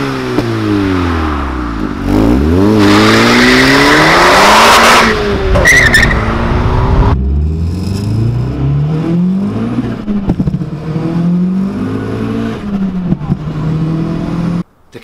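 A high-revving VW Lupo with a swapped-in 1.8 turbo engine, GT30 turbocharger and 400 hp screams through rising and falling revs, with loud tire screeching and squealing in the middle, close and continuous.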